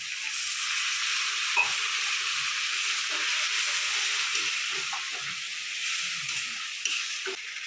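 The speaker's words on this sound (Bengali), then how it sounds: "এখানে জল দিয়ে মশলাটা কষিয়ে নেব।" Spice paste with chili powder and sugar frying in a pan after water is added, a loud, steady close-up sizzle and hiss with occasional faint stirring scrapes underneath.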